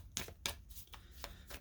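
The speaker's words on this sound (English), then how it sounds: "Let's see if a real shuffle will get you anything else." A deck of cards being riffle-shuffled during a tarot reading, with several short crisp bursts of fluttering cards at irregular intervals, close and quiet, with no voices.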